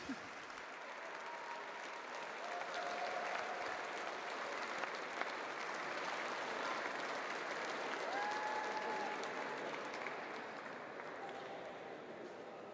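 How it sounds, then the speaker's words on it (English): Sustained crowd applause fills an arena honouring the medalists of a lead climbing World Cup final in Edinburgh, a steady wash of clapping with a few faint whistles at moderate distance. "A big round of applause for all of our competitors here in Edinburgh"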